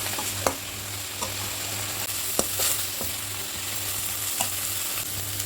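Manathakkali greens sauté in a pan with a steady, soft sizzle, broken by occasional light scraping stirs, close-up and with no one talking.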